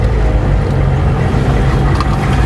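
A Hummer H1 diesel rumbles loudly through a U-turn, its engine drone steady and close with no break, no talking over it.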